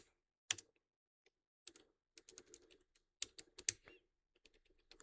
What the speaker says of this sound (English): you heard my keys going, but no letters showed up